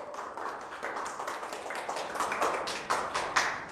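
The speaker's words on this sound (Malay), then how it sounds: "Satu tepuk tangan untuk Biorish" A round of applause for a health supplement brand at a product presentation, dense overlapping claps rising slightly in strength, with no talk over them.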